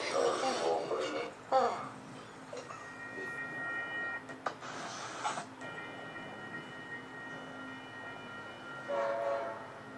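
An Amtrak Southwest Chief passenger train rumbles past near Plainfield, its horn sounding in several steady blasts over the continuous rolling noise of the cars, loud and close.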